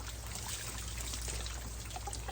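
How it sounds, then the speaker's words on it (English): Water drains from a bucket of freshly cut bluegill and shellcracker fillets in a soft, continuous trickle and splash, close and fairly quiet, with no voices. "you can turn that over and drain a lot of that water out"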